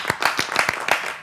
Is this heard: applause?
yes